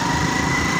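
Cars and motorcycles pass close by on a road at night, a steady engine drone and hum with no break across the short moment.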